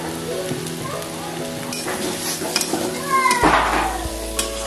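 A poppy seed paste mixture stirred in a frying pan with patal and paneer, close scraping and stirring strokes over a soft sizzle, with a few sharper clatters of the utensil toward the end.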